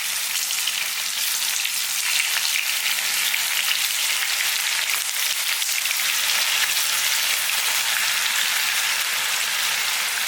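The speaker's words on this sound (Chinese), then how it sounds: "把豆腐给它煎香" Tofu pan-frying in oil until golden on both sides gives a steady, even sizzle and crackle throughout, close and continuous, with no talking.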